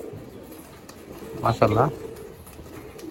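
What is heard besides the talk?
pigeons cooing while sitting on the roof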